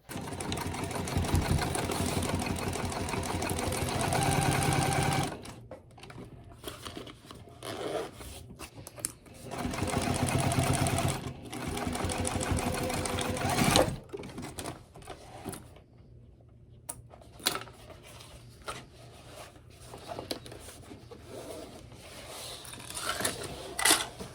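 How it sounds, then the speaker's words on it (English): Sewing machine stitching the lining of a zipper pouch, loud steady runs of rapid needle chatter broken by pauses, short bursts and quieter fabric handling between seams. "go to the machine, stitch, flip it down, and top stitch, just like we did before."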